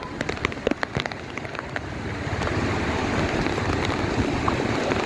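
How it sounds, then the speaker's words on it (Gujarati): Heavy downpour in Junagadh near the Girnar hills and Damodar Kund: a steady, dense hiss of rain on surfaces with water rushing, opening with a few sharp close drips or clicks before the roar thickens and holds evenly. "અવડો વરસાદ છે જુનાગઢનો ભાઈ અમારે"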